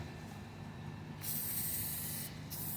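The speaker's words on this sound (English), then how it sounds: "I'm going to cover with gloss black spray paint" Gloss black spray paint hisses from a can onto a bathroom sink being restored, in two close bursts, the first long and the second short, over a quiet background.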